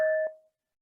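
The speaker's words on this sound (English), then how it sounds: "whenever I ring this bell" A mindfulness bell is struck once, its clear tone ringing with a steady pitch and a faint overtone, then fading out within half a second into silence, near and alone.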